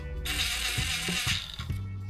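A ratchet wrench snugs the transmission pan bolts on a 2004-2010 Ford F150, giving close, steady clicking with a few heavier clunks of tool on metal and no talk.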